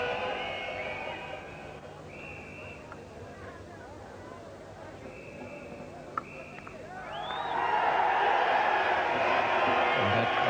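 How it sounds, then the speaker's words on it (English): Indian supporters in the crowd at an England versus India cricket test match send up a rising cheer that swells loudly near the end, over steady crowd murmur and broadcast commentary. "that little extra cheer from the Indian supporters will sound about 10 times as loud to the England players"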